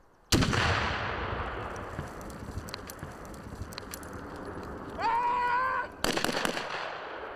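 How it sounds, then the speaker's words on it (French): A Swiss Army Stgw 90 (SIG SG 550) rifle fires sharp single shots in quick succession outdoors during a training exercise. The reports crack loudly, the first and last stand out, and a brief tonal whine sounds between them. "Le coup par coup rapide peut être également utilisé pour couvrir un jet de grenade."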